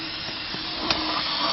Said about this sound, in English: Or spray it with some more carb cleaner and wreck some more stuff